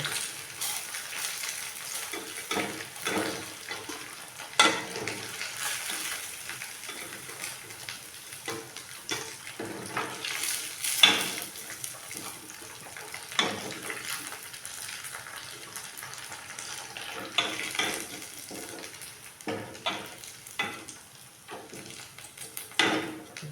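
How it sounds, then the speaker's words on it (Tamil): Idli pieces fry in a pan with a soft, ongoing sizzle, broken by frequent scraping and stirring clatters from a utensil, close by throughout. "இதை இந்த அளவுக்கு ஃப்ரை பண்ணி எடுத்தால் போதும்"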